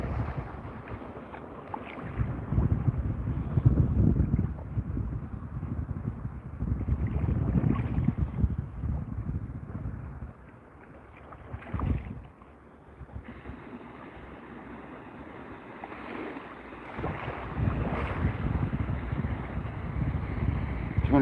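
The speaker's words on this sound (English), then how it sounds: "I love that slight offshore wind" Steady offshore wind rushing over open water around a kayak during a bass fishing outing, a continuous broadband buffeting that swells and eases, with rumbling microphone wind noise up close and a brief lull midway.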